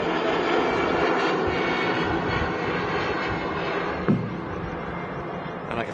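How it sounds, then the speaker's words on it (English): A Lufthansa Airbus A319 jet departs Manchester Airport with a loud, sustained engine roar that stays steady throughout, a brief louder burst near the end. "Lufthansa departing next. That's an A319 heading back to Munich"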